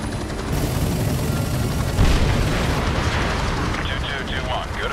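Artillery guns firing in Call of Duty: Modern Warfare 2, a heavy booming barrage with one strong blast near the middle over a constant rumble of combat, with a voice briefly audible.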